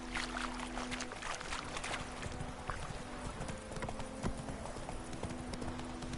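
In The Witcher 3 video game, the horse Roach gallops with a continuous, brisk clatter of hoofbeats close by, layered over a dense, rushing outdoor ambience.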